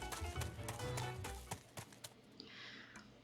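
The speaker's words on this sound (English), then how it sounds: "Look, the goat's hopping just out of Sebek's reach." A goat hopping around in the video game Twisted Wonderland gives a quick run of light clattering hoof taps over a low background hum. The taps thin out and fade toward the end.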